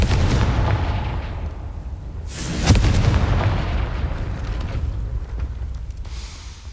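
A Confringo fire spell from Hogwarts Legacy bursts as a loud blast about two and a half seconds in, with a crackling, rumbling tail over a steady low game background.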